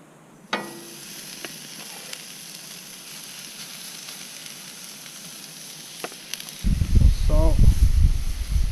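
Chopped ribeye steak sizzles on a Blackstone griddle while a cheesesteak is cooked, a soft continuous hiss that bursts louder near the end, with a voice talking over it.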